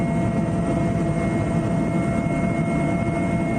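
Steady, loud drone of a helicopter heard from inside the cabin during flight over the sea, a constant engine and rotor roar with a faint tonal whine and no talk.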